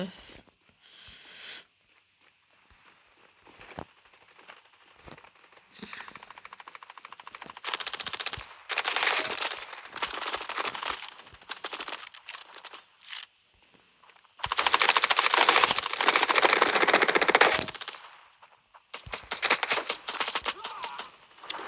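Bursts of machine-gun fire from a shooter video game, coming in several loud rapid volleys with quieter stretches between them and no talk.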